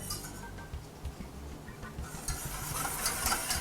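A spoon stirs sugar into a homemade chocolate pudding mixture in a pot, with a steady scraping and swishing close by and a few light clinks, and the stirring grows a little louder toward the end.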